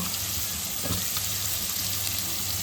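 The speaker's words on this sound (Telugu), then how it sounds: "లైట్గా పసుపు వేసి కొంచెం అది బ్రౌనిష్ వచ్చే వరకు ఉల్లిగడ్డలు వేపుకోవాలి" Onions sizzling steadily in hot oil in a pan with turmeric and salt, a continuous close frying hiss with no voices.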